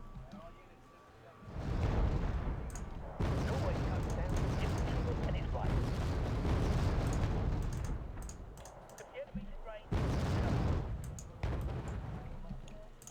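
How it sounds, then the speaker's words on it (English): Artillery fire and explosions in the strategy video game Wargame: Red Dragon, heavy booming rumbles and crackling impacts layered over continuous battle noise, with someone talking over parts of it. "Now they can waste time with artillery all they want."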